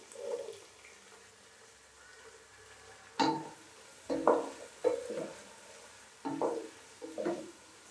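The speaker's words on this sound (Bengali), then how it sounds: "এগুলো 1 মিনিট ফ্রাই করে নেব" Cauliflower and peas frying in a pan, a faint sizzle under several scraping stirs with the spatula, spaced irregularly across the clip.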